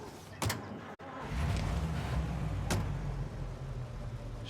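A car engine in the video game Mafia Definitive Edition keeps up a steady, fairly loud drone for most of the stretch, with a couple of brief clunks near the start and a short sharp transient midway.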